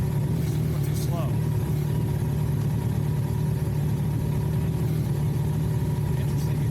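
A motorcycle engine runs steadily at a low idle-like rumble throughout, close and continuous, during a riding course session.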